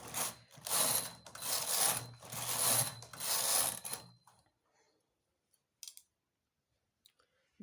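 A knitting machine running a pattern, its carriage sliding in several rasping, clattering passes for about four seconds, then near silence broken by a few faint clicks.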